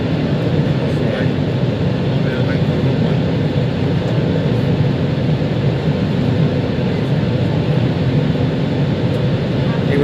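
A British Airways Airbus A320 taxiing at Rhodes airport, heard from the cabin as a steady broad engine rumble and hum, constant and moderately loud for the whole stretch.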